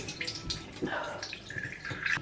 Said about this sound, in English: I'm going to try rinse it off real quick.